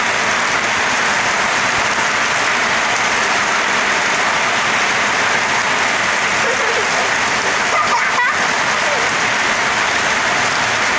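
Steady, dense hiss of rain falling on surfaces in a village courtyard, continuous and fairly loud throughout, with a brief rustle or knock near the end.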